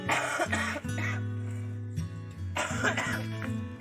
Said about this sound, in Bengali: সব কাশছে